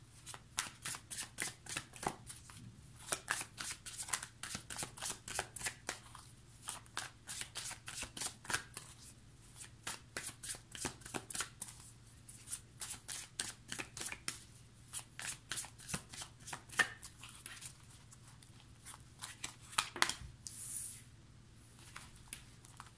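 Tarot cards being shuffled in a steady run of crisp, rapid riffling flicks over a faint low hum, close and fairly quiet, with no talking.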